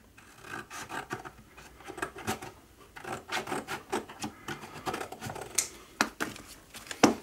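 Scissors or a blade snip and rasp through a strip of model railway sidewalk material, giving a run of close, dry scraping and cutting strokes at a moderate level with no talk.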